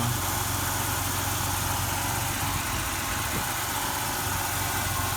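Oldsmobile Cutlass Ciera with a 2.8 liter engine idling, a steady low rumble with a smooth, unchanging hum and light vibration, heard close by and alone for the whole stretch.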